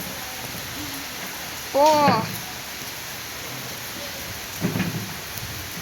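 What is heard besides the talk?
heavy flooding rain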